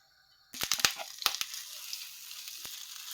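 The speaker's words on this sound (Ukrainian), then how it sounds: "Розпреділяємо рівномірно по сковорідці олійку і будемо викладати тісто." Pumpkin pancake batter meets hot oil in a frying pan with sharp crackles and pops, a burst of spits in the first second, then settling into a steady sizzle.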